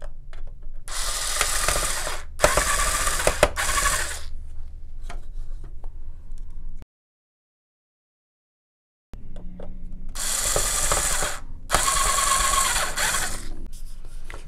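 A driver whirs as screws go back into an Xbox One console housing, two loud sustained bursts, a silent pause, then two more bursts, close and with rough ratcheting grit.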